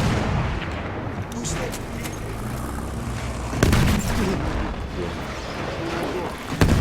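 Repeated booming explosions and gunfire blasts in Battlefield 1 during a sandstorm, with sharp loud hits standing out over a dense, continuous rumble of battle noise and some background voices.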